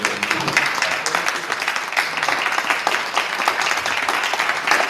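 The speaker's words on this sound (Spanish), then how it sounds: "Yo les quiero pedir un aplauso a Guillermo Giuchi" Audience applause for Guillermo Giucci at an in-person talk, a dense, steady round of clapping from a sizeable crowd lasting throughout.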